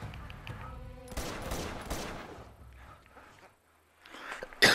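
A big pistol blasts several times in Uncharted: Drake's Fortune (Among Thieves collection), a cluster of sharp loud shots with echoing tails, then quieter scuffling and a final burst.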